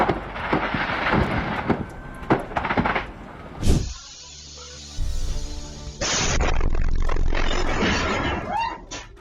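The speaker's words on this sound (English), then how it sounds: "The explosion shook homes and knocked out power for over 150 customers evacuating." A loud blast goes up from a commercial building fire with spot fires burning, followed by a heavy rumbling roar and crashing debris, and a sustained noisy rush of fire and wind afterward.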